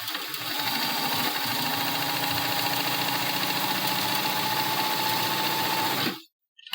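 Sewing machine running a straight stitch across fabric with a 1/4 to 1/2 inch seam allowance: a steady, close mechanical whir with rapid needle chatter that runs without a break for about six seconds, then stops abruptly.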